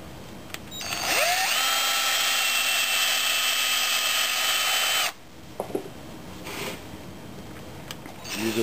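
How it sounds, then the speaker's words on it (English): A power drill boring a hole in a wooden duck carving: a short motor whine ramps up, runs steadily for about four seconds, then cuts off, followed by a few light handling clicks. "Using my drill,"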